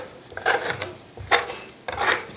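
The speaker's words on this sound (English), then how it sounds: "I'm just doing kind of like a random trowel, varying the thickness" A trowel spreads faux paint plaster in a random pattern at varying thickness, making three close scraping, rasping strokes in quick succession.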